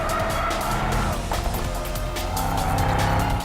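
A Mercedes E63 AMG S in rear-wheel Drift mode, sending 850 Nm to the rear wheels on a circuit, drifting with a steady engine roar and a sustained tire squeal, loud and continuous throughout.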